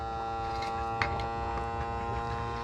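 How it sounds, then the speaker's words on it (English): A vacuum sealer attachment pressed onto glass jars hums steadily with an electric buzz, like a small motor running continuously up close, with a brief click partway through. "you just put it on like this, push it down in, and it's going to vacuum seal them"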